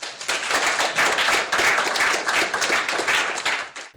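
Loud, dense applause from a poetry-gathering audience welcoming a poet to the stage, many hands clapping close and continuous throughout with small swells, no voices over it.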